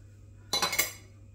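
A knife cuts through a crispy beer-battered cod nugget from ALDI, giving one short, close crunching scrape that lasts about half a second against a quiet background.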